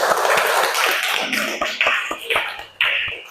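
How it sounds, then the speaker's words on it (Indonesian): A classroom group applauds group 1, a steady stretch of dense, loud clapping from many hands with a few sharper individual claps near the end. "Tepuk tangan dulu."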